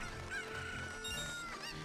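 A cucco chicken in Ocarina of Time giving a few short honking clucks, loud and close in the game audio over a steady bright musical backdrop, no talking.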